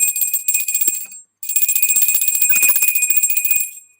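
A small bell rings in quick bright tinkling bursts during a live tarot reading, sounding close and fairly loud, with a brief pause partway through before the ringing resumes.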